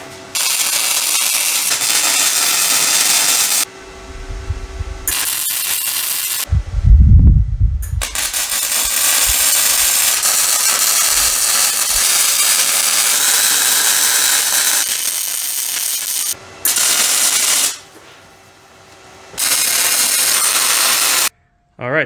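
Steel gas tank skid plate for a third-generation Toyota 4Runner being tack welded: loud, crackling bursts of several seconds each, broken by brief gaps with low mechanical clunks.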